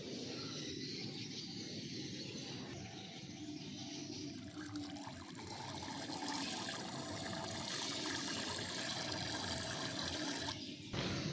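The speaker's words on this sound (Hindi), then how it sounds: "ये मिक्स कर दिया गर्म पानी इसके अंदर।" Hot water is being mixed with a B12 and power supplement for pigeons, making a continuous, fairly loud splashing and swirling that stays steady throughout with no talking.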